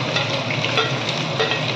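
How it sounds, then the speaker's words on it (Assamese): Onions frying in hot oil for a mutton curry, a steady close sizzle with faint stirring scrapes throughout, no voices. "এটা তেলতে পিয়াজখিনি দি"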